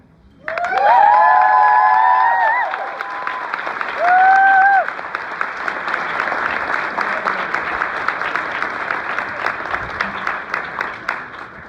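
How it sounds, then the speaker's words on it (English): A keynote audience at a writers conference breaks into loud, sustained applause, with a few high whoops and whistles near the start, and keeps clapping steadily to the end. "I would like you to clap loudly and welcome"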